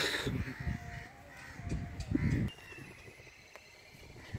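Birds at Rangpur zoo, with a crow cawing several times at close to middle distance over a low background hum, no speech.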